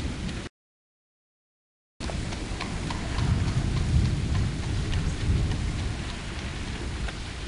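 Heavy storm rain pours steadily and loudly, a dense continuous roar after a brief silent gap near the start.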